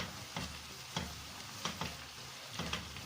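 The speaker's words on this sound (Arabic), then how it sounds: "تحمير البصل هو اللي بياخد التحمير وبياخد الوقت كله في التحمير" Onions fry in a pan with a soft continuous sizzle, and a utensil stirs them in a few scraping strokes close by, with no talking.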